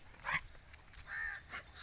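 A dog being handed over to a new home gives faint, soft whines and yips close by in a quiet yard.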